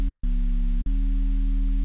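A Serum synth bass preset with a heavily distorted noise layer plays as a steady, loud, buzzing sustained tone, cut by one brief gap early on and another short dropout.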